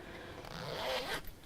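A zip on a fabric cushion cover being pulled in one smooth, close rasping stroke that rises and ends with a small click, heard alone without talking.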